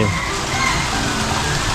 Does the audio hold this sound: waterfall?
yes